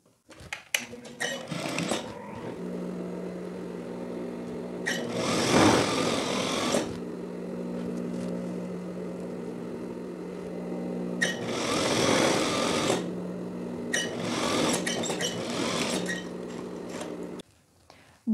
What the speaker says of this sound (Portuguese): eu vou fazer uma costura aqui bem rente à margem do tecido